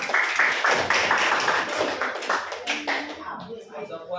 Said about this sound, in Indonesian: Tepuk tangan lagi biar semangat ya.